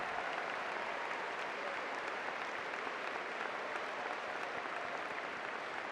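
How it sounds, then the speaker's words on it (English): An audience at a university commencement applauds alumni, a dense, steady wash of clapping from a large crowd that holds evenly from start to finish. "And offer our applause."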